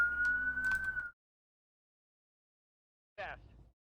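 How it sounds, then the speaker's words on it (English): A siren wailing outside in one rising sweep for about a second, then silence before a short burst of another sound at the end. "don't mind the siren outside"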